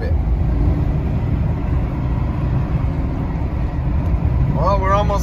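Heavy road traffic is heard from inside a moving car on a rainy day, a constant loud low rumble and road roar with a short burst of music or voice near the end.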